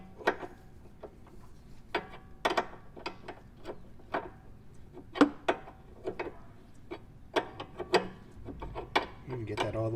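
A Porsche Cayman 987 sway bar end link being tightened with a 5mm Allen key gives off scattered small metallic clicks and ratchety ticks at an uneven pace, close and fairly quiet over a low background hum.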